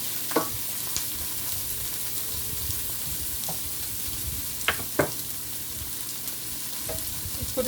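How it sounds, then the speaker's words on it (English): Onion and celery sauté in a pan on low heat for chop suey, giving a soft, steady sizzle with a few sharp clicks from a utensil stirring. "So I'm letting this saute right now. The onion and the celery saute."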